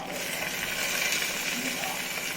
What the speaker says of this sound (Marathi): त्याच्यात आपण उभा कापलेला टमाटे घालूया.